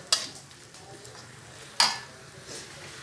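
A spatula scrapes and stirs egg kothu parotta masala in a pan, with two sharp metallic clinks against the pan and soft scraping in between, close and fairly quiet.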